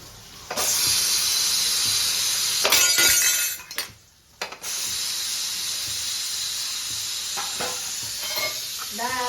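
Chopped onion sizzling and hissing as it hits hot oil in a pot of Gujarati home-style dal fry, a steady loud frying hiss broken by a short pause and a few clinks of a utensil.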